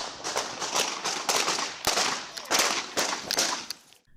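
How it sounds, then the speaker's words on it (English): Gunfire in a confrontation between police officers and a teen in a residential backyard: a rapid volley of sharp cracking shots, many in quick irregular succession, somewhat muffled and distant before fading out. "Gunfire broke out."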